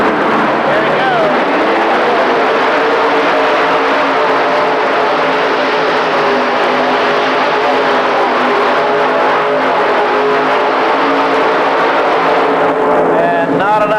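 A 7,000 lb modified tractor at a 1985 indoor pull roars at full throttle, a loud sustained engine blare that holds steady across the whole run, with crowd noise and an announcer's voice audible beneath.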